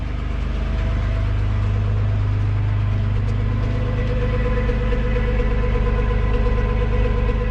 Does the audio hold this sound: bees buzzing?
no